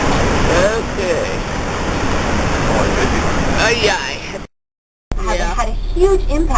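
Niagara Falls roars as a broad, steady rush of water heard from a tour boat, with people talking over it and a short gap partway through.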